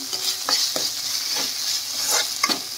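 Cabbage and carrots being stirred in a hot pan, a steady hiss of frying with repeated spoon scrapes and knocks against the pan at an uneven rhythm.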